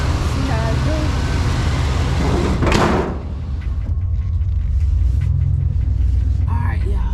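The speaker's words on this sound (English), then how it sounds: "We're about to go on the test drive right quick." A Chevy car, fresh from a coolant temperature sensor wiring fix, rumbles steadily as it sets off on a test drive, a low engine and road drone running throughout with a brief whooshing swell midway and faint talk beneath.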